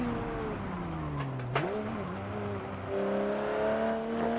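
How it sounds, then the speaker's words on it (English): Simulated car engine in Forza Motorsport 7 drones steadily with a throttle blip and shift dip midway, then climbs again, with a faint tire chatter beneath; continuous and close, no talking. "Yeah, and there's that tire noise."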